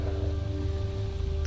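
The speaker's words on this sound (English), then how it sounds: "And the rain too, it hasn't stopped yet." Steady rain falls in the game S.T.A.L.K.E.R., a dense, even patter over a low ambient hum, continuous and unbroken for a short moment.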